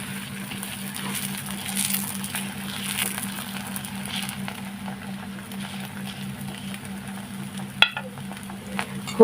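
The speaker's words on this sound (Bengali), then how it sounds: "তো এই ঘি দিয়ে আমি পরোটাগুলো ভাজবো।" Parathas frying in homemade ghee give a steady, moderate sizzle with a constant low hum beneath, a few soft crackles and a sharper clink near the end, with no talking.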